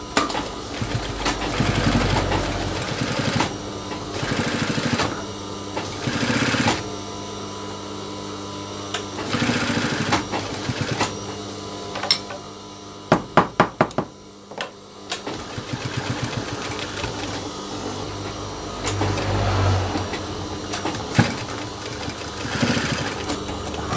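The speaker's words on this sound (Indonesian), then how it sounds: "Sekarang kita lanjut menjahit bagian belakangnya." A sewing machine stitches the back of a jeans waistband being let out, running close and steady in long whirring bursts broken by short pauses.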